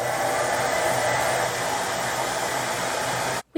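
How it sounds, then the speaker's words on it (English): A hair dryer on a low setting blows a steady, even whoosh of air as it dries a kitten, loud and continuous before cutting out abruptly near the end. "If you do plan to use a hairdryer, do it from very far away"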